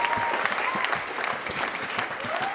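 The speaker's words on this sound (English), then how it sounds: "please give Coach Joins a round of applause for what he's done" Awards-night audience gives a round of applause, a close, busy patter of many hands clapping continuously for a couple of seconds, with faint crowd murmur underneath.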